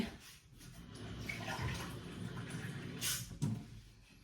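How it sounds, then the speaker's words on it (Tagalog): Water pours steadily into a container at close range, a continuous splashing rush with a couple of brief louder knocks near the end. "lalagyan ko na ng tubig"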